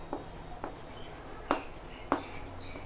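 A teacher writes on a classroom board during a Class 6 maths worksheet lesson, giving a few sharp, separate taps and scratches of marker or chalk at an uneven pace over a faint room hum.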